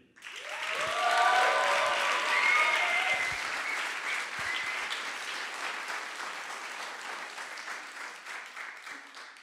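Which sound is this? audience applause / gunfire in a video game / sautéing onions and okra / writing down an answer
audience applause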